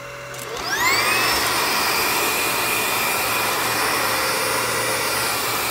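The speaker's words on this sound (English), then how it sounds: "We've got the INSE vacuum. Took out the long stem and now it's just vacuuming under my desk." An INSE V120 cordless vacuum spins up to max suction under a desk, its whine rising quickly in pitch then holding a loud steady high-pitched motor roar, with no talk.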